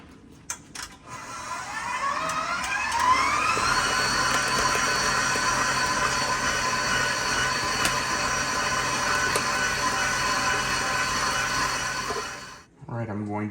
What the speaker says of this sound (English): Now we're just going to put our whisk on our mixer, and we're going to let those two